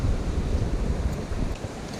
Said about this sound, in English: we're gonna have some really windy conditions. Just because we're right on the shore.